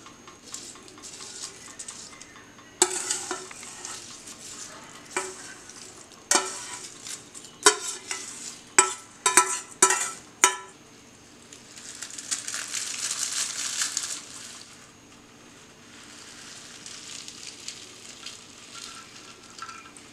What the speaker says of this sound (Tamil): நான் இன்றைக்கி கிளாத்தில் தான் வடிக்கிறேன்